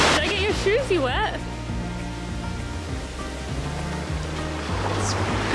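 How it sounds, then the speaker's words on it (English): Ocean waves washing onto a soft-sand beach at Ballycastle, Northern Ireland, a steady broad rush of surf under a person talking nearby. "he's heading to the Irish Ocean to touch it"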